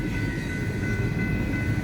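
A Union Pacific freight train rolls across the Mill Street grade crossing in Kelso, a steady loud rumble of wheels and cars at close range with no talking.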